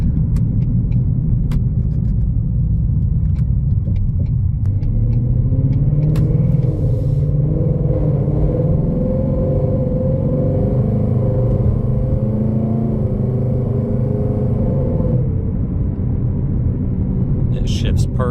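A 2020 Ford Mustang GT V8 rumbles steadily from inside the cabin while driving, a loud, deep engine drone with gentle rises in revs throughout, with a few faint clicks and no speech over it.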